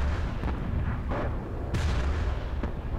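Shell gun fire in a video game, heavy booming artillery-like shots that land as a few loud blasts over a constant rumbling battle din.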